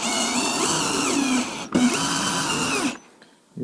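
Electric power drill with a small bit driving screws while a door handle and cover are installed, a steady loud whirring run that stops briefly near the middle, restarts, then cuts out before the end.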